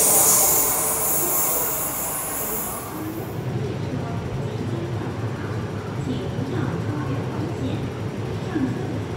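A metro train curving into a platform on the line to Lo Wu, a loud rumbling roar with a high hiss that fades after a few seconds into steady rolling wheel noise.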